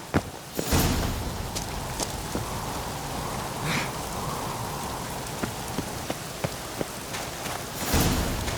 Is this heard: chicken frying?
no